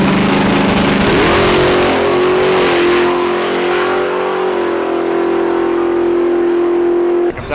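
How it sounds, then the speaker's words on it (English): A race car engine revs hard, its pitch climbing and then holding a loud, steady high whine for several seconds before cutting off abruptly near the end. "I'll race your motor."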